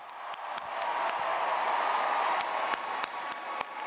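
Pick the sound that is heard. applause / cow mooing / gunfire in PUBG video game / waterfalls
applause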